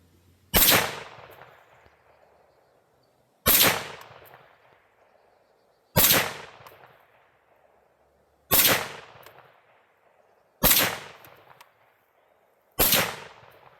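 Six sharp, loud rifle shots from a Fulton Armory M1 Carbine fired with 110-grain loads at an outdoor range, evenly spaced a couple of seconds apart, each with a short decaying echo.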